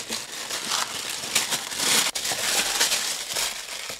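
Protective paper crinkles and crumples close by as a beauty subscription box is unpacked, giving a continuous rustle with louder crackling bursts and one sharp tearing snap in the middle.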